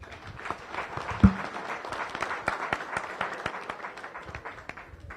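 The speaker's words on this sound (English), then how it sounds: "Please join me for a round of applause for all of our visitors today" Applause for visitors at a Las Vegas Rotary Club weekly meeting, a modest room's worth of clapping with individual hand claps distinct, steady then gradually tapering off.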